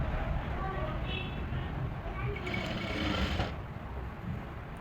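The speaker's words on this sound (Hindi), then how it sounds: "और इसके ऊपर से सीधी सिलाई लगाएंगे।" Sewing machine running a straight seam on women's trouser fabric, a steady continuous whirr held close throughout, with no talk over it.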